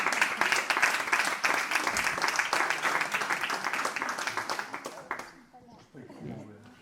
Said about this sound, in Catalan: Vinga, aquest aplaudiment que volíeu fer.